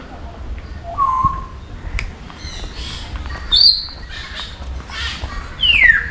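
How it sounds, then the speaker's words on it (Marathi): Birds in the bird park at Essel World, Mumbai, give scattered whistling calls and sharp squawks, several separate rising and falling notes spread across a few seconds over a low background murmur. "आणि प्रत्येक पक्ष्याचा आवाज बघ किती येतो."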